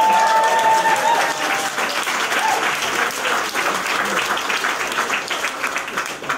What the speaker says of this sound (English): I want everyone to please give him a round of applause